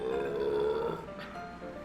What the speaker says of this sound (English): No, I just had the burp.